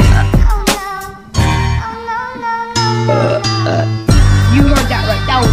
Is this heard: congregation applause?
no